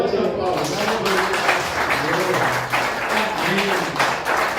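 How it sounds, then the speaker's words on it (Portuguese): Church congregation clapping after a sermon passage, a broad steady wash of hands throughout, with voices and sung or spoken tones mixed in under the applause. "Pode aplaudir."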